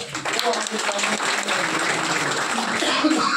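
An audience applauds a panel speaker at an indoor Tiens business meeting, a steady wash of clapping from many hands with a voice talking over it.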